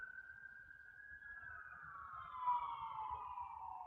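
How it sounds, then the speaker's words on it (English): A far-off siren drones in a long, steady wail that slowly drops in pitch, faint against a soft low hum. "That's what you hear is like the ambulance."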